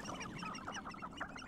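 Chickens cluck in Hogwarts Legacy, a busy run of short overlapping fowl calls and clucks held steady at moderate level throughout, with no talk over it.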